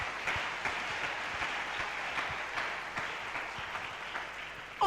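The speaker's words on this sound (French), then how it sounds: "Est-ce que tu peux acclamer le Seigneur?" A church congregation at a seminar applauds the Lord with steady, dense clapping throughout, fairly close and continuous, with no talk on top.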